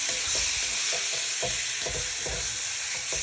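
Garlic and onion sauté in rendered pork fat for pork menudo, giving a steady, close hiss of frying broken by repeated scraping stir strokes at a regular pace, with no talking.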